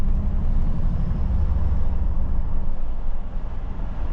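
A Mercedes G63 AMG engine runs with a steady, deep, low rumble that is close and loud, staying even throughout with no talking.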